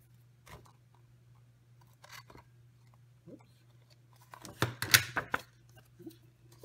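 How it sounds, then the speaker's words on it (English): Scissors trimming excess paper from a stamped card, a few scattered snips early, then a denser cluster of cutting sounds, close and fairly quiet. "on the back, I'm just going to cut those excess off so I have a nice clean edge"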